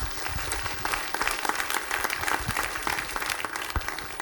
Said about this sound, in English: So let's give these guys a round of applause because that was amazing.